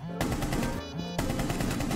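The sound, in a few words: gunfire in the video game Rainbow Six Siege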